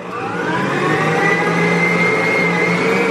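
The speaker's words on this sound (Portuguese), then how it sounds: "a gente vai bater essa massa daqui até ela estiver bem misturadinha" An electric mixer beats butter and eggs into a dough, running as a steady, loud motor whir with a constant tone throughout and no talking.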